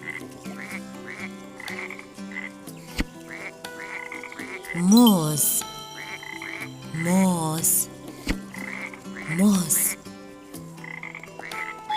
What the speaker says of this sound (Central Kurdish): بۆق، بۆق.